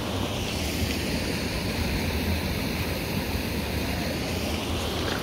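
Hot river water rushing along a riverbed in Atiquizaya, a continuous broadband roar, close and steady, with no voices.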